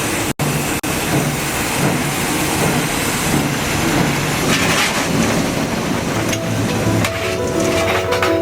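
A steam locomotive runs along a line in Poland, giving a loud, close, steady rumble and rushing roar that never lets up, with no talking.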